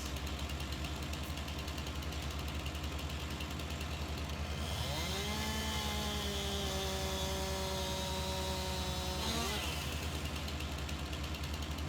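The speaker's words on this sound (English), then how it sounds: "Right then, let's get our chainsaw out." A chainsaw in the Farming Simulator 19 video game drones at a low idle, then revs up to a high, steady whine while cutting trees for several seconds before dropping back to idle, with no voices.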